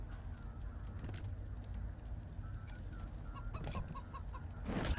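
Chicken clucking amid combat in the video game Wasteland 3, short bird calls and clucks repeating over a steady game soundscape, with a louder burst near the end.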